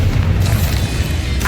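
Bombarda blasting spell in Hogwarts Legacy: a loud, continuous explosive rumble with heavy low-end boom, sustained through the moment and swelling again with a bright burst near the end.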